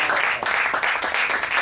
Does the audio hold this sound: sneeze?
no